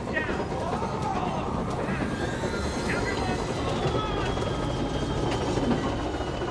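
A train in the Control AWE expansion rumbles steadily as its wheels give thin, drawn-out squealing tones, under a person talking.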